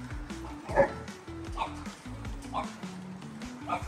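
Dogs bark, yip and whimper in a park, several short sharp bursts spread across the moment with a scuffle-like tone, mixed with people talking.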